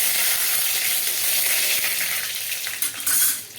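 Torn bay leaves, green chili and five-spice seeds crackling in hot oil, a bright, loud sizzle with stirring scrapes for a few seconds, no talking.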